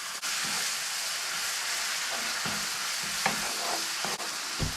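Aubergine bhaji spices and full-fat yogurt cook in a pan with a steady, close sizzle and hiss, broken by occasional stirring scrapes and clinks.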